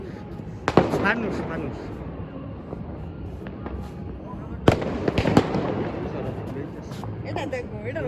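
New Year fireworks bursting outside at midnight, a few sharp cracks and pops standing out over a steady background of distant crackling, while people nearby talk throughout.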